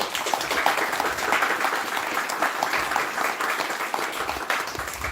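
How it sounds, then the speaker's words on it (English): An audience at a string band training closing ceremony applauds two string band musicians, giving a sustained, even round of clapping with no voices over it. "I would like you to give them a round of applause for that."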